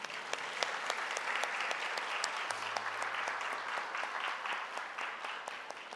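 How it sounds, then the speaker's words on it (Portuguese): Church congregation applauding during a sermon, steady dense clapping from many hands in a reverberant room that stays even for several seconds. "isso já é um motivo da gente se alegrar e aplaudir a Jesus por isso"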